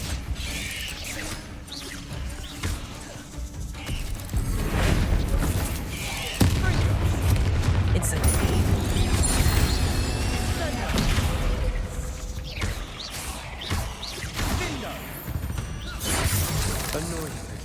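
Incendio fire spells are cast during a spider fight in Hogwarts Legacy on PS5, giving repeated whooshing bursts and crackling impacts amid clanking, rattling combat effects, with occasional voices between them.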